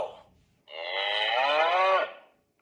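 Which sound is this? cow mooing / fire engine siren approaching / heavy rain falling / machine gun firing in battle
cow mooing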